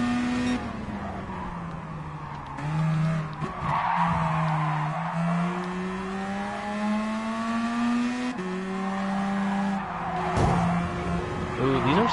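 Car tires squeal through corners in the racing game Gran Turismo Sport, long sustained skids over a loud, steadily shifting engine drone with gear changes.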